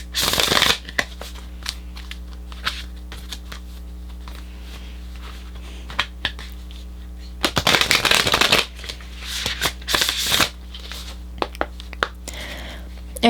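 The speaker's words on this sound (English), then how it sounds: "I'm going to pull an oracle card." Oracle cards being shuffled by hand, with repeated crisp riffling bursts up close and a couple of longer, louder shuffles near the middle, over a steady low hum.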